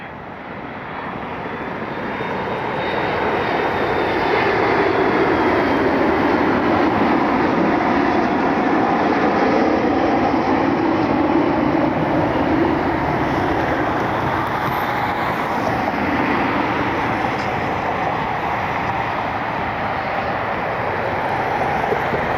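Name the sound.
USA Jet MD-80 jet airliner arriving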